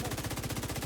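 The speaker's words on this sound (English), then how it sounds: "Back to just normal shooting." Rapid automatic gunfire in a video game, a fast steady burst of loud, close shots that fills the moment alone.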